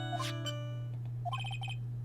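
Phone ringtone from the video game Phoenix Wright: Trials and Tribulations, a short electronic melody that plays a few rising notes and then a quick repeated chirping pattern over a constant low hum.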